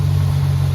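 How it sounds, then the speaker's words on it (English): A Jeep engine idles high at around 1500 RPM on a cold October day, a loud, steady low rumble with an even pulsing throb and no talking. "It was idling really high."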